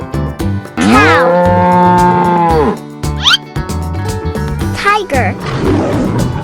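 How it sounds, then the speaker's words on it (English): A cartoon cow gives a long, loud moo, followed by shorter animated calls over busy cartoon music, all close and prominent. "cow"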